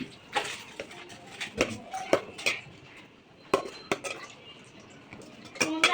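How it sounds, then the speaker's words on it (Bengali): Dishes and cutlery clatter at a dinner of chicken pulao, with scattered sharp clinks and scrapes of a spoon on a plate, moderately close, some soft background talk. "এখন আমি রাতের খাবার খাচ্ছি"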